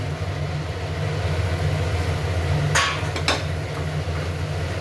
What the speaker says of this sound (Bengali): মশলাটা কষানো হয়ে গেছে এবার এর মধ্যে আলুটা দিয়ে দিচ্ছি